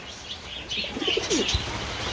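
Pigeons coo softly in a brief low burst, with light chirps and a faint flutter against a quiet background hiss.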